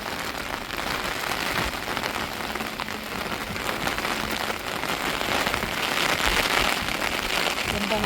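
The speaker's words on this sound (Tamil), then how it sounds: "நல்லா மழை பெய்ஞ்சிட்டு இருக்குது" Steady rain patters and hisses on surfaces, a dense continuous wash of drops close by with no pauses.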